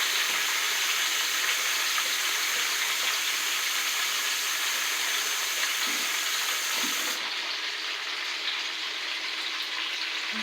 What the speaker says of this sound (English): Wash my hands, y'all.